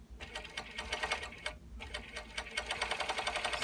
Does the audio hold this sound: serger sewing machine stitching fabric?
yes